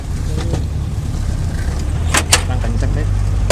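An angkot minibus rides through traffic. A steady low engine rumble runs throughout, with a couple of sharp rattles or bumps midway and a louder clunk at the end, and faint voices are heard in the background.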